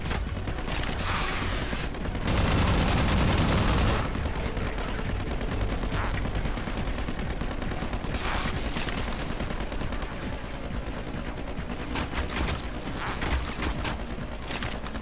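Rapid weapon fire from a shooter game, aimed at alien bugs in Half-Life 2, with bursts and single shots cracking repeatedly. A heavy, loud barrage near the 2–4 second mark stands out against dense mechanical clatter throughout.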